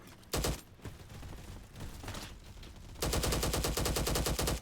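LMGX machine gun in the Bad Business shooter game: a short loud burst, scattered shots, then a long rapid sustained stream of automatic fire near and loud, no talk.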